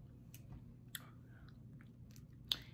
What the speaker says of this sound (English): Get y'all a bite of that toast.